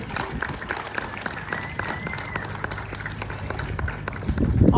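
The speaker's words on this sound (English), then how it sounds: "Big round of applause for our judges." A crowd at a charity car convoy event applauds the judges with dense, sustained clapping that swells slightly toward the end, heard at moderate distance.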